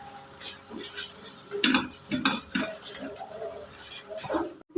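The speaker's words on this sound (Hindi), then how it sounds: "इसको थोड़ा सा पकाएंगे ताकि ये थोड़ा सा थिक हो जाए और सख्त हो जाए" Khoya thickening in a pan while being stirred, a steady wet sizzle with repeated scraping strokes throughout and a sharp clatter at the very end.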